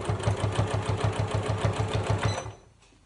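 A sewing machine stitches a fabric notebook cover in a steady, fast rhythmic chatter of needle strokes, loud and close, then stops and falls to near silence in the last half second.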